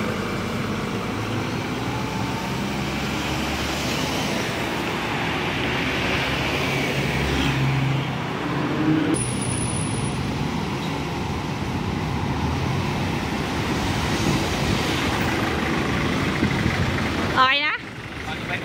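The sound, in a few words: Mitsubishi Pajero on test drive with new tyres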